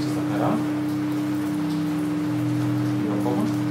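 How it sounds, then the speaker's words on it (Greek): Rain falls outside in a steady, dense hiss with no breaks, over a low constant hum, while a faint voice is heard now and then. "έχει πιάσει τώρα καλή βροχή"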